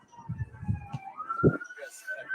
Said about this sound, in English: Dang sirens.